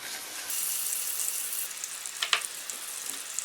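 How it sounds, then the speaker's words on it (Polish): Butter melts in a small saucepan, sizzling steadily and quietly with a brief clatter near the end, no voices. "Do rondelka wrzucam masło."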